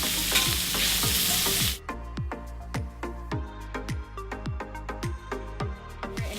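Sausage sizzles and fries in a pan while it is turned over, with a dense hiss at first and then a regular run of sharp scraping clicks from the utensil, close and steady.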